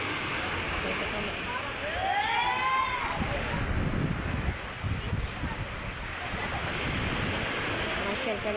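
Sea waves at high tide wash in with a steady surf rush, swelling slightly midway, while voices and a brief whistling tone sound over the water.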